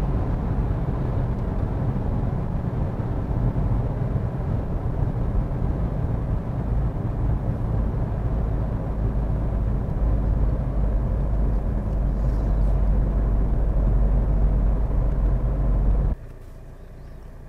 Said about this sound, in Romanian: Frâna de motor cum arată, fără să fac nimic